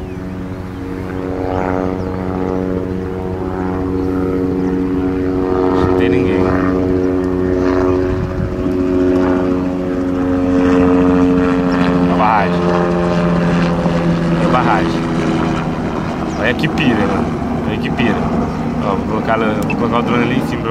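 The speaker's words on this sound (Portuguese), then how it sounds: "Vou colocar o drone ali em cima pra vocês verem." A camera drone hovers and climbs above a river dam where people swim, its steady propeller whine and engine buzz running loud and continuous under a man's speech throughout.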